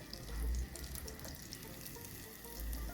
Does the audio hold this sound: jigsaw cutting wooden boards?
no